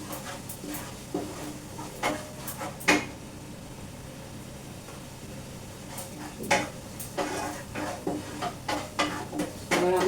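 Ground cumin and Kashmiri chili powder cook in a pan at a low, steady sizzle, broken by scattered scrapes and knocks of a spoon stirring, some close together and some well spaced.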